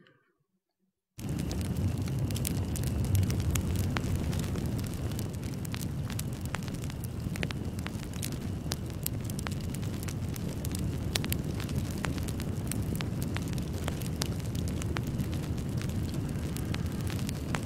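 A crackling fire sound effect, reinforced with vinyl record crackle, starts after a moment of near silence. A constant roar of flames is peppered with frequent sharp clicks and pops, sustained and fairly loud with no voices.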